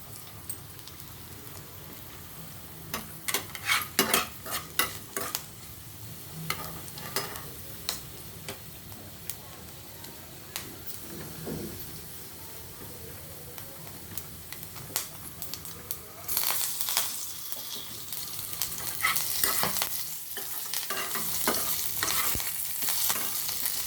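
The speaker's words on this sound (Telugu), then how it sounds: "వేయించుకుంటున్నాను. ఇంగు ముక్క కూడా వేసుకున్నాను." Spices and a piece of asafoetida fry in hot oil, a soft crackling sizzle under scattered clicks and stirring scrapes from a pan, rising into a steadier hiss toward the end.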